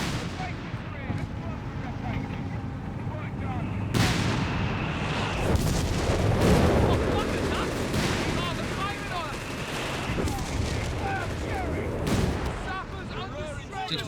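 Sustained gunfire and artillery in the video game Company of Heroes 3, with a desert battle between the Afrikakorps and British forces. Rapid shots and heavy booms build into a loud, dense barrage, with a commentator talking over it.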